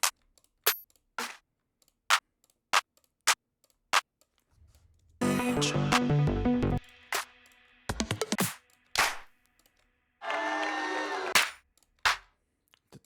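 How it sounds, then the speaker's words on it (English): Clap samples auditioned one after another in music production: a run of short, dry, sharp claps and snaps with silent gaps between, interrupted by a couple of longer, denser layered clap hits and swells. "I need to find a better clap in this"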